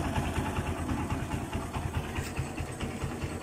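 A small engine keeps running with no battery fitted, idling with a steady, even pulsing putter heard close but fairly quiet.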